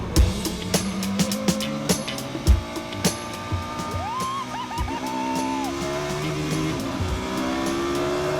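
A Formula One car accelerates along a track, its engine rising and falling through rapid pitch sweeps, heard among sharp clicks and bumps, fairly distant and moderately loud.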